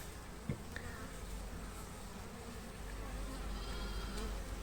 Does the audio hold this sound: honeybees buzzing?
yes